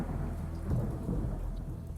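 Rumbling thunder rolls low beneath steady rain in a thunderstorm, a deep continuous roar with a swell in the middle, moderately quiet and without voices.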